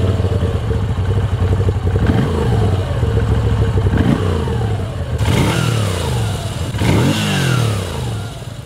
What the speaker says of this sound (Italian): Il gioco tra le valvole e i bilancieri che le comandano emette il classico ticchettio, che unitamente allo scarico caratterizza il famoso suono del bicilindrico